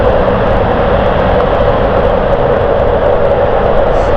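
A Cessna 560 inbound at London City on a stormy weeknight, its steady, loud engine roar sustained and unbroken throughout, with no talk over it.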